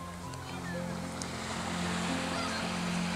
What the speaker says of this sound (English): the intensity of the waves forever changing with the wind that drives them from above